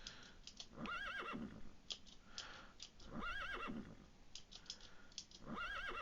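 A horse neighs in a video game gnome race, three repeated whinnies at even intervals with rising and falling pitch, moderately loud over steady clip-clop hooves and background noise.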